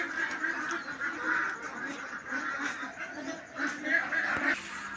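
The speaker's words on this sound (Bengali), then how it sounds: "উনি এখন হাঁসকে ফিট দিচ্ছেন" Ducks at a duck farm quack and honk in overlapping bursts as they are fed, a faint, busy flock chatter with no clear voices.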